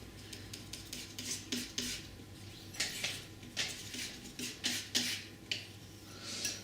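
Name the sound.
palette knife mixing white, ultramarine and red paint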